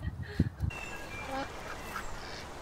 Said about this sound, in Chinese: 就看到好多鸭子就激动